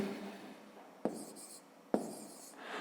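Handwritten numbers for a fifth-grade math addition exercise, with soft scratching of pen or pencil on paper and two sharper taps as the writing tool lands, quiet and close, with no talking.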